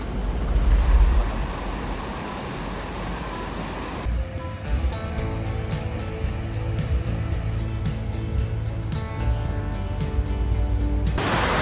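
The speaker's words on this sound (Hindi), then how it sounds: "पानी पीछे बह रहा है, पानी की आवाज़ आप लोगों को आ रही होगी" A river flowing behind a roadside stop in a mountain valley makes a constant broadband rush of moving water, loud and steady throughout, with no talk.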